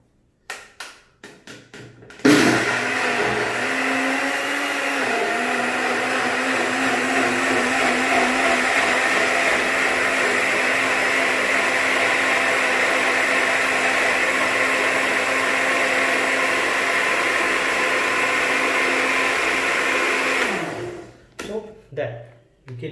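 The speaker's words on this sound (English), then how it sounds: "so that's grapes and spinach. So we just blend it." A blender whirs steadily through grapes and spinach for about eighteen seconds, loud and close, with brief clatter and handling sounds before it starts and after it stops.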